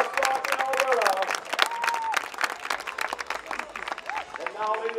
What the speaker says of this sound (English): round of applause, ladies and gentlemen. Let's give it up for the quick horses from West Rock and Alberta